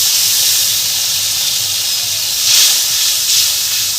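Water hits a spice paste frying in a pan for potato-and-egg biryani, setting off a loud, close, continuous hissing sizzle that swells briefly a couple of times.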